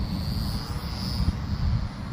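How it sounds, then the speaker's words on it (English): A Vevor T28 Trojan (XK A210) RC plane powered by an 800mAh 1S Tattu LiPo drones steadily overhead at full speed in a park, its high-pitched electric motor whine continuous over low wind rumble on the microphone. "This plane flies awesome."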